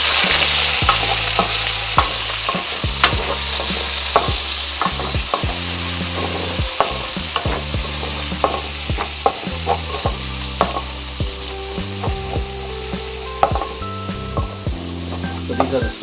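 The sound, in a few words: onions frying and being stirred in a pan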